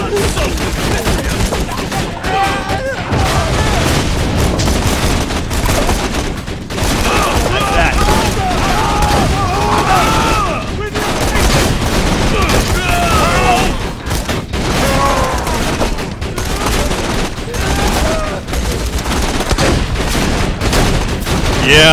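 Sustained automatic turret gunfire in the video game Borderlands 2, loud and dense throughout with chattering bursts and booms, a voice talking intermittently underneath.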